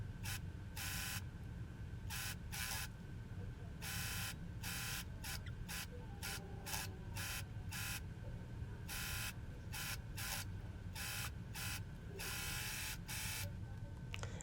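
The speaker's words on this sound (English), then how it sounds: "Now I'm going to do the same thing for the top part of the skirt. I'm going to serge all around." A serger overlocks all around the top part of a denim wrap skirt made from old jeans. Its close, steady motor whir comes in repeated short and longer bursts with brief pauses between runs, and no voices.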